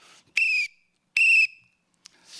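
Two sharp, shrill whistle blasts sound about a second apart, each short and piercing, with quiet gaps between them.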